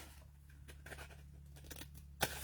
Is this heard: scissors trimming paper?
yes